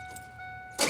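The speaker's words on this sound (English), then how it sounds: "you need to turn on the truck" A Ford Ranger manual pickup's engine cranks and catches near the end of a quiet moment in the cab, a sudden loud broadband burst.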